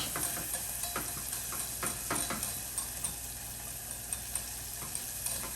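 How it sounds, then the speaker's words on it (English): Caramel fizzes and crackles in a pan as butter goes in, a soft steady sizzle marked by repeated light taps of a utensil against the pan, faint and with no talking. "it's going to bubble up quite a bit as we add this in"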